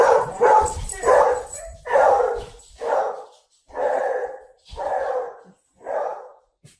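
A beagle barks and bays in a run of seven loud, close, evenly spaced calls, each drawn out and slightly howling, heard alone.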